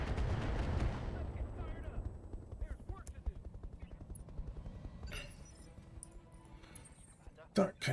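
Heavy mech weapons in the BattleTech game open up with a loud booming volley, then a rattling series of shots and impacts taper off, with someone talking over the action.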